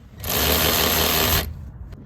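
A small right-angle power tool works on rear suspension shock tower bolts of a Lexus LS400 (Celsior), a loud, steady high-pitched motor whine lasting just over a second, starting and stopping abruptly.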